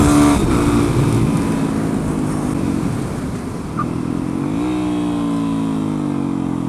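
A motorcycle revs hard while doing wheelies on a public road, a loud engine note climbing and shifting pitch over steady wind rush, heard close from the rider's position.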